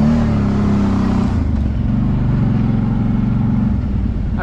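A car plowing through a flooded puddle after a storm, with a loud, close, steady engine drone and a rushing wash of water that continues throughout.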